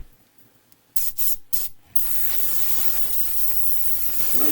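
A hobby airbrush fed by a compressor hose sprays bare air with no paint, giving a few short close hissing bursts and then one steady continuous hiss, with no one talking.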